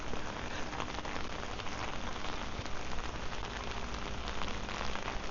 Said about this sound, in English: Let's stay in the rain.